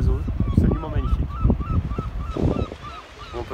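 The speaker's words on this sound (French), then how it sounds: "Un sanctuaire d'oiseaux, absolument magnifique." Seabirds at a coastal bird sanctuary near Cap Ferret, including gulls and cormorants, calling in a busy chorus of repeated honking, nasal cries close by over a low background rumble.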